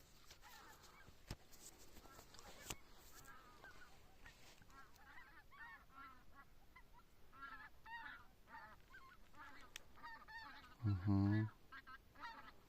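Geese honking in the distance during a May goose hunt, with the hunters' callers luring them, many scattered calls that build to a loud burst near the end, while a man briefly murmurs.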